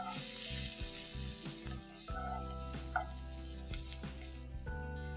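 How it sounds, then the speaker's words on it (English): Onion, capsicum and gram flour sautéing in a pan for a paneer bhuna masala, giving a steady close sizzle with a few soft clinks and stirring scrapes throughout. "So just saute it with your onion and capsicum for a few seconds before you add in any liquid ingredient."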